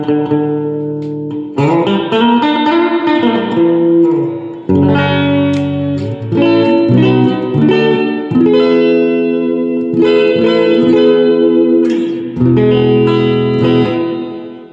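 Electric guitar played through an Electro-Harmonix Epitome pedal on its hall reverb setting, strummed chords and picked notes ringing out with a large, long-decaying wash, loud and alone.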